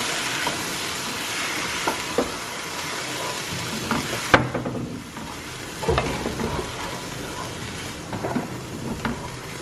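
Shrimp sizzle on a grill with a steady crackling hiss, broken by a few louder pops and clatters of cooking, a close continuous fry sound with no one speaking.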